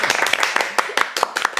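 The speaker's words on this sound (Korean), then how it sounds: "박수!" A handful of people clap at the introduction of four youth committee chair candidates on a Korean political talk show. The claps come as quick, uneven bursts, close and fairly loud, in a short round.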